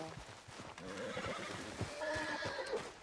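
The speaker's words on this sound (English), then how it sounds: "What's wrong with this horse?" Horse neighing in Red Dead Redemption 2, a nervous whinny with snorts and restless hoof sounds close by, layered over quiet ambient game sound.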